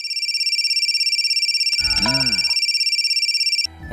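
A phone rings with a steady pulsing electronic tone, broken briefly by a short burst of other sound before cutting off near the end.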